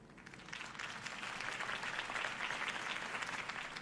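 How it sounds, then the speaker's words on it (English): A crowd applauds steadily after a campaign speech in Batman: The Telltale Series, the clapping dense, even and sustained from start to finish. "If only Mr. Wayne, my campaign's largest backer, could have heard that applause"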